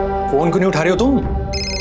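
A phone rings with a bright repeating tone. A voice talks loudly over most of it, and near the end the ringing carries on alone.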